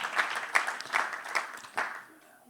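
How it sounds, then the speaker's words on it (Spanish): Brief, moderate applause from a church congregation, rising in a few swells before fading out quickly. "Puede darle un aplauso al Señor"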